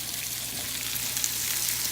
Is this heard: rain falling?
no